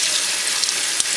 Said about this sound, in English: You want to rinse it until the water runs clear.